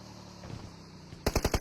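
Burst of rapid gunfire from an enemy team in an online battle royale shooter, five loud evenly spaced shots cracking out near the end after quiet game ambience.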